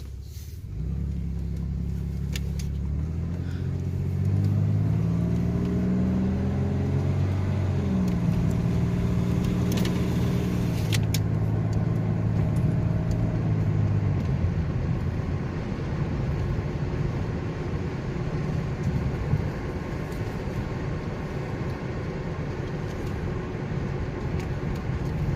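A Chevrolet Lumina Eurosport with a 3.1 V6 drives along, its engine note rising and shifting through gears in a steady, fairly close drone that settles into a rougher road rumble later on.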